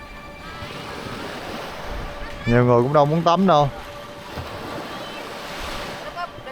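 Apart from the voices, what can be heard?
ocean waves on a beach at sunset, Nusa Penida, Bali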